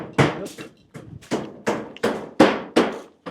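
Steady hammer blows ring out while a roof goes up on a house, about nine sharp, close impacts in a fairly even rhythm, each one punchy and quickly decaying.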